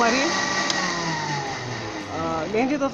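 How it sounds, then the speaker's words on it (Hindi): A grinder blends green chutney of coriander, mint and yogurt, its loud motor whining steadily and shifting pitch as it strains against the thick mixture, with no talk over it. "हाफ़ बचा लें और अच्छे तरीके से इसे ग्राइंड कर लें।"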